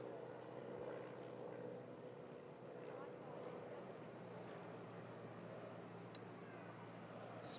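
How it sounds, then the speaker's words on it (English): A Cessna Skyhawk light aircraft drones over an airfield as a faint, steady engine hum that holds without a break against distant background noise. "Got a Skyhawk about to go over the airfield here."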